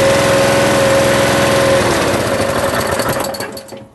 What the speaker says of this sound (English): Okay, let's give it a go.